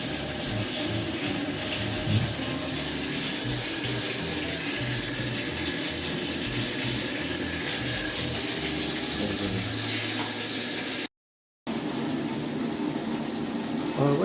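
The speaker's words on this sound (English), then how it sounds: "The flow of the shower and the drain." Shower water streams steadily into the floor drain of a walk-in curbless shower with Schluter waterproofing during a flow test, a loud continuous splashing rush broken only by a short dropout near the end.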